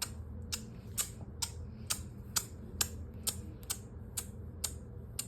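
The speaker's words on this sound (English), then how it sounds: "What on earth is that mysterious ticking noise?" Crisp, regular ticking clicks repeat about twice a second over a low background hum, each tick sharp and bright with no talking.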